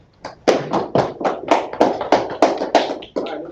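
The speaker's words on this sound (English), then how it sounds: "Right, clap it up." Hands clap together in a steady, regular beat at a Sabbath service class, about ten sharp, fairly close claps in a row.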